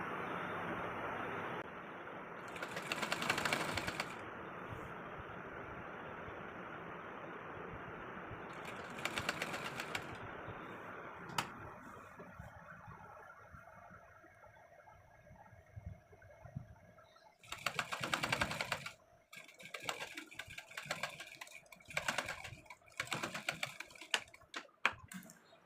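A sewing machine stitches a half collar on a V-neck co-ord set, running in short bursts of rapid mechanical chatter separated by quieter pauses.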